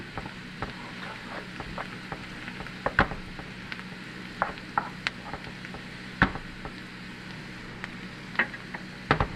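Garlic cooking in a pan for a crawfish pie makes a soft, continuous sizzle under scattered sharp clicks and taps of a utensil against the pan, close and moderately quiet.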